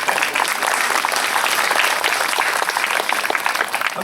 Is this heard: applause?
yes